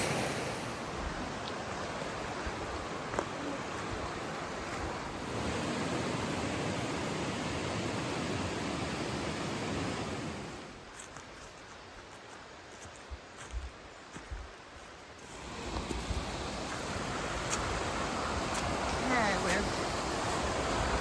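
A mountain stream flows with a steady, broadband rush close by, nearly constant for long stretches and dipping briefly mid-way before the full wash of water returns.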